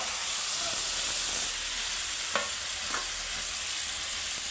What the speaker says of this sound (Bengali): দেখো বন্ধুরা চিকেনটা ঢেলে দেবো।